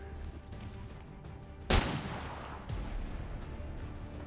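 A shot fired at a trooper in the XCOM 2 video game: one loud, sharp blast with a ringing tail, followed a second later by a softer thump over low game ambience.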